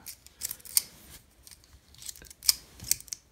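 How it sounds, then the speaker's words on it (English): A mechanical pencil clip on a pen is clicked down repeatedly, giving sharp, close clicks spaced irregularly, some of them paired, against a quiet background. "as you click down the clip, you engage the mechanical pencil"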